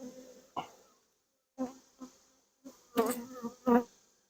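Honeybees buzzing around an open hive in several short, loud bursts, with quieter droning between them and one pause near silence.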